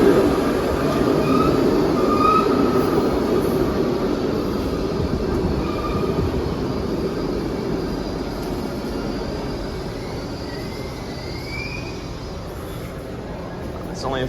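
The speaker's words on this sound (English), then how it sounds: "our train towards Owings Mills arrives, and it's pretty crowded." Steady rumble of a four-car Baltimore subway train arriving at a station, broadband roar easing slightly as it slows, with faint brakes or wheel squeals on top.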